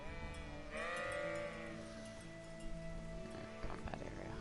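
Sheep bleats in the Kingdom Come: Deliverance medieval video game, one long wavering bleat up close followed by softer game ambience and faint clatter.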